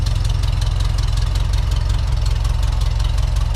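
A VW Bus Type 4 engine idles through a homemade exhaust with a steady, close, throaty low burble and a fast even pulse, fairly loud and with no voices over it.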